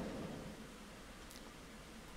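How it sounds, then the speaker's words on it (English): Rain in the Roller Coaster Tycoon 3 video game falls as a faint, steady hiss, with a soft low rumble that fades a little after the opening moments. "It's fucking raining out."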